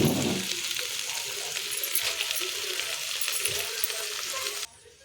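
Tomato pieces fry in a pan, a loud continuous close sizzle with occasional stirring clinks before the sound drops away sharply near the end.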